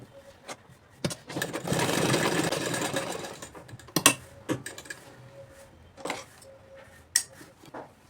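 Sewing machine stitching along the edge of a shirt collar, a close mechanical whirring run of about two seconds amid scattered clicks and thumps, with a few brief taps afterward and no clear talking.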